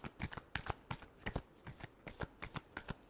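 A deck of tarot cards being shuffled by hand, a fast steady run of crisp riffling flicks, close up and soft, with no voice over it.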